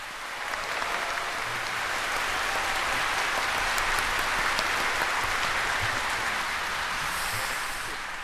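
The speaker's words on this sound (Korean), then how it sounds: "큰 박수를 부탁드리겠습니다." A large audience at the 80th Liberation Day ceremony claps in a long, even wash of applause, broad and steady, welcoming entering representatives and descendants of independence patriots.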